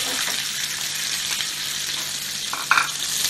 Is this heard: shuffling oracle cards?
no